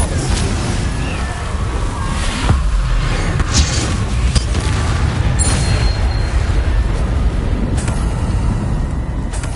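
Spell combat in Hogwarts Legacy on PS5: dense, loud booming blasts and crackling magical bursts pile up over steady rumbling game noise, with sharp hits scattered throughout.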